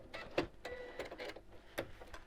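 A sewing machine runs in short bursts while stitching the corner of a fabric storage box stiffened with Decovil interfacing, its whirring stitches close and fairly soft, broken by brief pauses and a few sharper clicks.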